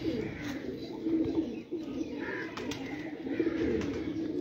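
Pigeons coo in a steady, low murmuring chorus from a rooftop loft, the soft throaty calls overlapping continuously at close range, with faint background noise and no clear talk.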